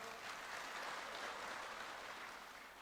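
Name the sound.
audience applause at a political event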